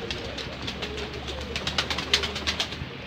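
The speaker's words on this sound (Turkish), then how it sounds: "Kuşları çıkarttık yemlemek için." Mardin pigeons let out for feeding, giving a run of close pigeon calls and fluttering bursts that grow busier and louder toward the end, with no talking.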